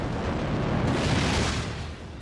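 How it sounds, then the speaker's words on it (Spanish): A refinery tank explodes with a broad, roaring blast of noise that swells and then slowly fades over about two seconds. It sounds dense and rumbling, with no voices. "Se eleva muchísimo la temperatura del tanque y acaba explotando."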